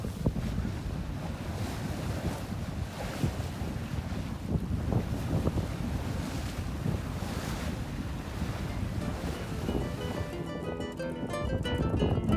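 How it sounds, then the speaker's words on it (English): Wind on a sailboat off the Nova Scotia wilderness coast in calm, flat conditions, a steady rumbling buffet of wind noise on the microphone mixed with water wash throughout. "Just a little bit of wind."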